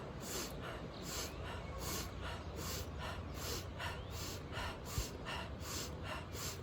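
Fast rhythmic breathing driven from the diaphragm, quick in-and-out breaths through the nose and mouth repeating in a steady pulse about twice per second, close and fairly soft.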